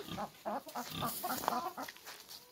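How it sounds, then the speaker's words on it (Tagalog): Chickens cluck in quick, overlapping bursts close by, a busy run of short clucks throughout. "Pinakawalan ko yung aking mga manok."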